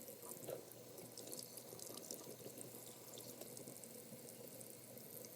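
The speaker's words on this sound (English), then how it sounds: "let's give these jars a cleanup just with some mild soap, hot water, and a rag." Canning jars are washed with mild soap, hot water and a rag under a running tap, a steady faint wash of water with small splashes and clinks throughout.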